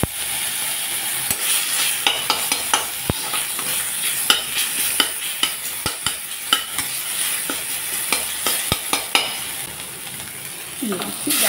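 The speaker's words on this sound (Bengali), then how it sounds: "এই ফোড়নে দিয়ে দিচ্ছি সরষে আর মেথি, চেক করা আদা," Mustard seeds, fenugreek, ginger and bay leaf crackle and sizzle in hot tempering oil, steady frying hiss punctuated by many sharp pops and spatters throughout, close and fairly loud with no talking.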